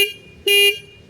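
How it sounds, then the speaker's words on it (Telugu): A Bajaj Dominar 350 motorcycle sounds its single horn in one loud, short honk of about a third of a second, standing out sharply against quiet background noise. "సింగిల్ హార్న్ అనమాట. సౌండ్ వినడానికి లౌడ్గానే ఉంది."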